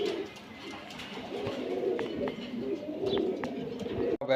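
Budapest pigeons coo together in a crowded loft, making a steady, dense murmur of overlapping throaty calls with a few sharp knocks and clicks.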